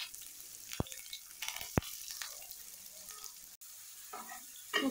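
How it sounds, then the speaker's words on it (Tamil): Onion, green chilli and curry leaves sautéing in a pan after mustard seeds have popped, a soft low sizzle broken by a few sharp spatula taps and scrapes, quiet and close, no talking. "வெங்காயம் பச்சை மிளகாய் கருவேப்பிலை போட்டு வதக்கிட்டுருக்கேன்"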